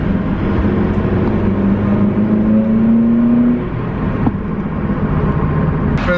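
A 2015 Mitsubishi Lancer GT drives along with a steady engine drone and a rising whine as it accelerates, heard from inside the car at a constant moderate loudness.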